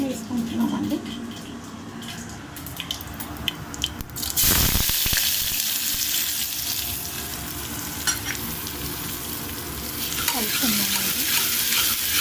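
Chopped onions dropped into hot oil with mustard and cumin seeds for sorakaya curry, a loud burst of sizzling that carries on steadily with stirring and scraping, someone talking over it.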